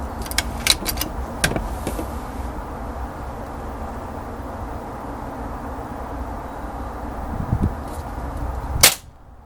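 Single sharp rifle shot fired at a target outdoors, a loud crack near the end after a stretch of quiet ambient noise, preceded by a few clicks and handling noises earlier on.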